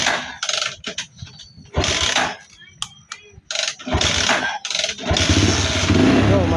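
A 150 motorcycle with a no-start fault is kick-started, giving several short scraping kicks with pauses between them, then the engine catches and runs with a steady rumble near the end while someone talks at intervals.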